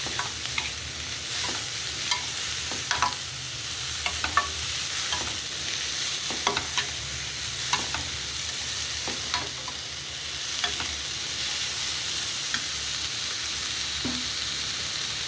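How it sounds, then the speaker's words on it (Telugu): Carrots stir-fried in a pan for egg fried rice, with a constant oily sizzle broken by regular, close spatula scrapes and taps against the pan. "కొంచెం క్యారేజీ క్యారెట్ వేసుకొని కొంచెం వేయించుకోవాలి"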